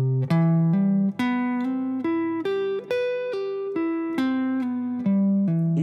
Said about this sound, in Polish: bądź dokładamy, tak zwane robimy hammer on, czyli gramy przez dołożenie palca, bądź gramy slide, czyli glissando, poprzez przesunięcie palca z jednego progu na drugi